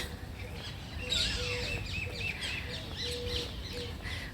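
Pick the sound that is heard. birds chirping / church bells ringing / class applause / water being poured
birds chirping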